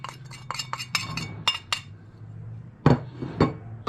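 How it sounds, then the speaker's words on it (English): A spoon stirs chili powder and paprika into vinegar in a bowl for homemade biltong, making a quick run of light metallic clinks, then a pause before two louder knocks. "give that a stir up in our vinegar"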